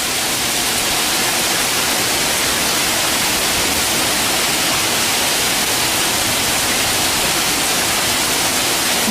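Storm rainwater pours and flows in a dense, steady, loud rush that fills the whole stretch without pause, like a heavy torrent close by.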